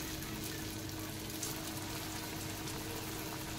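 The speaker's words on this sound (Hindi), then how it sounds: "देख सकते हैं यहाँ पे हमारे तेल गर्म हो गई है, हम एक एक करके यहाँ पे कोफ्ते को डालेंगे" Steady dense crackling sizzle of hot oil in a pan as kofta dumplings fry, a continuous rain-like hiss with no voices.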